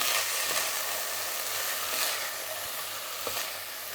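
Courgettes and frozen peas are stirred in a pot over steady, even frying sizzle, with soft scraping strokes from the spoon now and then.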